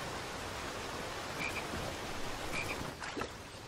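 A frog croaks in the King's Quest video game, giving two or three short, bright croaks. They stand out over a steady, hissing ambient wash, and no one talks.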